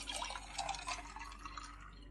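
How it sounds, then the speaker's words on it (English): Concentrated Earl Grey tea mixture with dehydrated lemon pours into a drink, a steady close liquid trickle with dripping splashes running throughout, alone without talk. "then you pour the concentrated tea mixture with Earl Grey plus dehydrated lemon"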